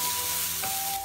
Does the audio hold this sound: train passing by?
no